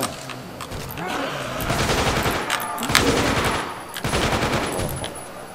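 Rapid bursts of Tommy gun fire in a zombies video game, sustained rattling volleys over a dense background of game noise, pausing briefly before firing resumes.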